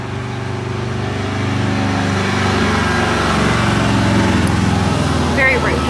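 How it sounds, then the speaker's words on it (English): A light engine hums steadily and grows slightly louder as a motorcycle passes by a house, a continuous droning pass heard fairly close. "There's gonna be a motorcycle."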